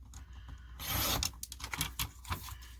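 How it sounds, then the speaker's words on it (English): Paper for a handmade card is trimmed with a cutting tool, a brief rasping slide followed by a few soft scraping strokes, close and quiet. "Okay, so I do want to trim some of that off."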